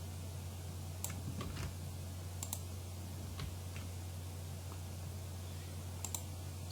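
Quiet clicking of computer keyboard keys as a name is typed, a few scattered light taps over a steady low hum.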